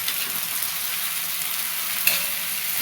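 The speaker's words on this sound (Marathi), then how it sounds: "मस्त परतायचं त्याला" Ghol greens and onion stir-fried in a pan give a loud, constant sizzle with one brief clack of a spatula partway through.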